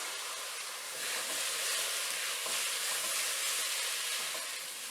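Tomatoes dropped into cooked masala sizzling hard in a pan for a fish molee, a steady, bright, even hiss of frying throughout with no voices.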